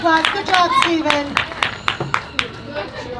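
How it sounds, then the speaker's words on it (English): At a Thomas the Tank Engine live show, scattered audience clapping comes in sharp, uneven bursts while a voice speaks over it. "Big round of applause, everybody."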